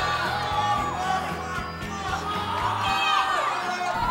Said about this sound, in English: you can hear, you know, like people yelling at the guy climbing